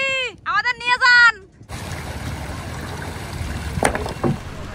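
A boatman's rowing boat moves on water with a steady broadband wash and a few sharper splashes, following a brief burst of voices at the start.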